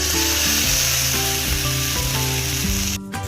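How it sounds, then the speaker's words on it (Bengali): Ginger, garlic and cumin paste sizzles in hot oil with fried onions, dry red chillies and bay leaves, a steady loud frying hiss with stirring scrapes throughout and a brief dip near the end. "পেঁয়াজ ভাজা হয়ে গেছে এবার আদা রসুন ও জিরা বাটা দিয়ে দেব"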